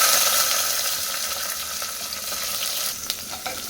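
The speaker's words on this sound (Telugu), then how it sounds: "జీలకర్ర ఎండుమిర్చి పసుపు ఆనియన్ వేస్తాను" Cumin, dried red chilies, turmeric and onion fry in hot oil with a loud, continuous sizzle. A few clicks of stirring come near the end.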